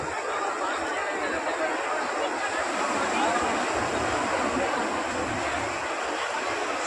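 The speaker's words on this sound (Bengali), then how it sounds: "দেখো ঢেউগুলো মা, দেখো।" Steady surf of sea waves rushing without a break, close and fairly loud, with faint chatter of people in the background.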